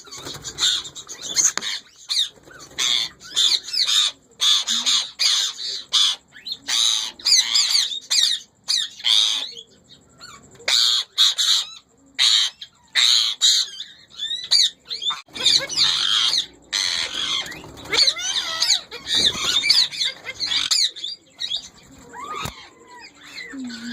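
Indian ringneck parakeets in a breeding colony squawk loudly and constantly at close range, with harsh, dense calls in overlapping bursts and brief pauses, no talking.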